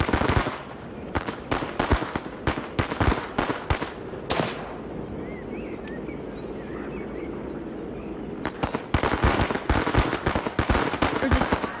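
Firecrackers burst in rapid, crackling volleys during a video game riot, loud and dense at first, thinning to a lull with a low rumble, then resuming in a fast string of sharp pops.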